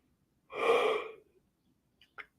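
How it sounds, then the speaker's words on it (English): A single breathy yawn swells and fades over about a second, close and fairly soft, followed by a couple of faint clicks. "Man, so many yawns today."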